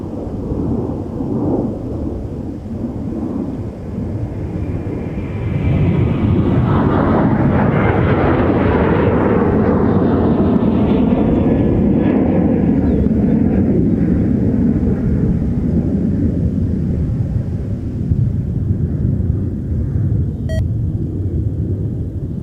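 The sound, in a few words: American 21 jet airliner departing runway 30 left at MSP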